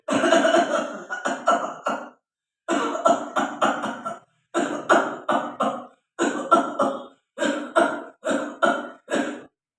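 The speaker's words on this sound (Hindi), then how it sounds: "उसके लिए हमें बार बार खांसने का प्रयास करना है।" A person coughs deliberately in repeated bursts, several quick coughs per group with short pauses between, close and clear with no talking.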